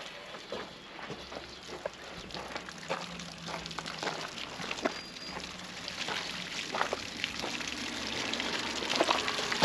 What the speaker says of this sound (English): there's going to be a lot of water coming out of here, so it will flush the water heater out.